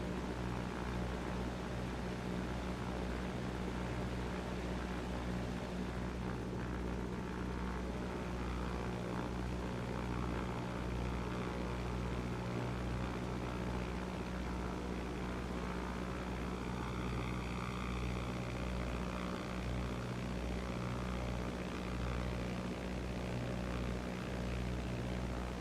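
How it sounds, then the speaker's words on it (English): Piper Cub propeller airplane in flight over Hells Canyon, a steady loud droning engine and airscrew hum with no talk, holding evenly throughout. "My whole goal was to get the airplane stabilized here to about 50 miles per hour."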